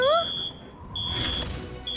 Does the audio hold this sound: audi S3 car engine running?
no